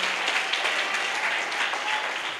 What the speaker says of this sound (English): Clap for Jesus louder than that.